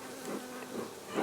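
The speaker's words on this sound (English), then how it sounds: "There's a good number of bees in there, isn't there?" Honeybees buzz around an open WBC hive during an inspection, a steady close droning hum with gentle swells as bees move near.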